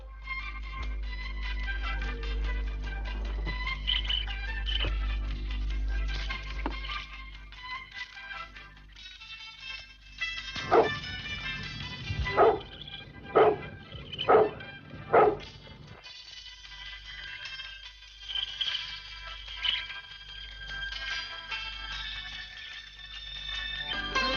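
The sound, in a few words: dogs barking at a large house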